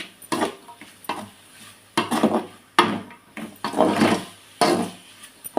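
Sliced capsicum (bell pepper) and rice being stirred and sautéed in a pan for a lunch-box capsicum rice, with repeated scraping strokes of a spoon against the pan over a soft sizzle, no talking.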